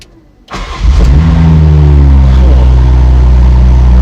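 After a brief quiet moment, a Morgan Plus Six 1st edition car engine cranks via push-button start and catches, then settles into a loud, steady low idle that continues to the end.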